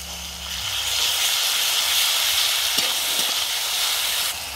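Garlic paste hisses and sputters in a pan with browned onions, a steady, loud frying sizzle with a few faint clicks underneath.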